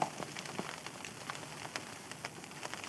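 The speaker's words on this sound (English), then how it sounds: "It's just started raining, which wasn't forecast at all." Light rain begins pattering on a tent, scattered soft drops tapping irregularly, quiet and close with no voices.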